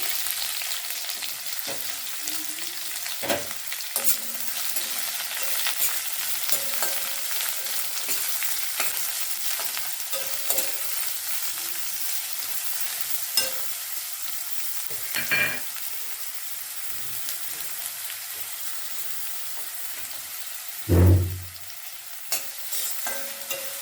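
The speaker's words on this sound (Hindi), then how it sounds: "इसी तरह से ये जो मैंने प्याज है वो मैं इसमें डालती हूँ।" Onions frying in a pan while being stirred, made while cooking masala dosa with sambhar, with a steady close sizzle, scattered scraping stirs and one louder clatter near the end; no talk.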